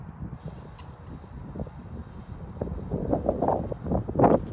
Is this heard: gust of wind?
yes